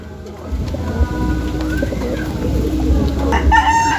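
A black checkered racing pigeon returns to the home loft after a derby race from Legazpi, Albay, with close cooing and fluttering among other loft birds and a rooster crowing faintly, and no talking.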